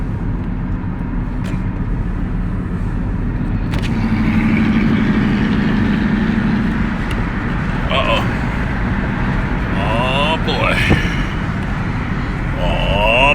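A Hyundai Santa Fe engine runs with a steady, loud rumbling drone that rises slightly midway, heard from inside the vehicle with occasional faint clicks and a voice speaking over it.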